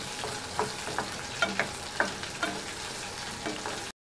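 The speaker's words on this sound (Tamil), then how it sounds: "தேங்காய் போட்டு நல்லா வதக்கிக்கலாம்" Grated coconut and green chillies sautéing in a pan, a steady crackling sizzle broken by a series of soft scraping stirs, close and fairly quiet, with no voices.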